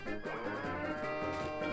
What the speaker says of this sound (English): Gotta milk the cows for Frank.